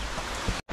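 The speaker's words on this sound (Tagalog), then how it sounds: "Lakas ng ulan" Heavy downpour in a rural outdoor spot, a dense steady hiss of rain close by that cuts out for a split second before returning just as strong.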